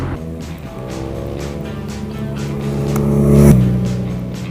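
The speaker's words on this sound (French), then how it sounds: "on a envie de rentrer des rapports à chaque fois qu'on le peut pour relancer la mécanique et profiter de cette sonorité assez agréable" A BMW R nineT Scrambler motorcycle engine revving up through the gears, a loud, close, rising engine note that climbs in pitch and peaks before a shift, with no talk.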